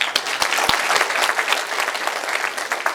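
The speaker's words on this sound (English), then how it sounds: "let's give them a round of applause" Banquet audience at a sports hall of fame dinner applauding, dense steady clapping from a large room crowd throughout, with a few sharp nearby claps standing out.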